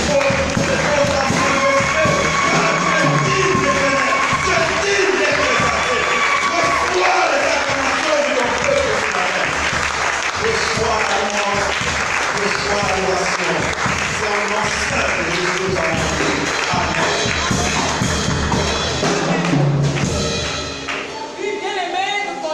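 A church congregation at a worship service cheers and applauds in a loud, sustained wash of clapping and voices that runs for about twenty seconds before easing off at the end.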